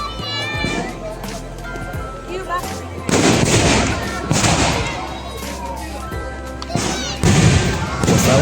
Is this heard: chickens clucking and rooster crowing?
no